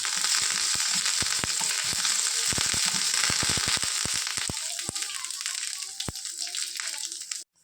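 Curry leaves and a pinch of asafoetida hit hot mustard oil for a Mangalorean kadale gasi tempering, giving a loud, close hiss of sizzling with sharp crackling pops that thin out and fade toward the end.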